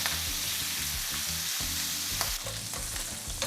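Sausages sizzle and fry in a pot as they brown, a dense crackle broken by the scrape and clatter of stirring, close and continuous.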